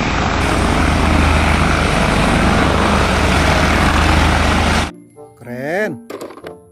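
A toy helicopter's loud, steady helicopter-like engine roar and rotor drone sound effect fills the first five seconds, then cuts off abruptly as a voice begins speaking.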